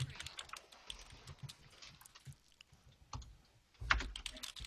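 Rapid clicking keystrokes on a computer keyboard during a podcast recording, an irregular stream of faint taps with a louder cluster near the end, no talk over it.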